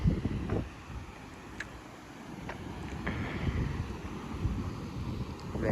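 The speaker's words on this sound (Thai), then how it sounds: "แรงมากเลยลมพัดบ่อยๆ" Strong wind gusting against the microphone outdoors, a loud buffeting low rumble that swells and eases in uneven gusts, with faint scattered clicks and no talking.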